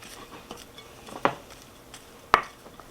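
A wooden spoon scrapes and knocks against a bowl while stirring frosting for an eggless, milkless vanilla cake, with soft intermittent taps and two sharper clacks against the side.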